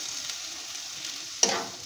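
Semolina mixture fries in a pan with a steady soft sizzle, then a sudden loud burst of hissing as chopped chilli and tomato hit the hot oil, fading back gradually.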